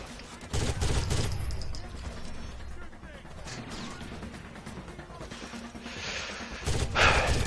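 Rapid gunfire bursts from the Rainbow Six: Vegas shooter game on PC, loud volleys early and again near the end with a steadier exchange of shots between, while a player talks over it.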